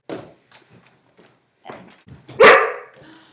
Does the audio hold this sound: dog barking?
yes